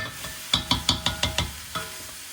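A meat chopper scrapes and breaks up ground meat frying in a pan: seven quick rhythmic scraping strokes, close and clear over a faint sizzle.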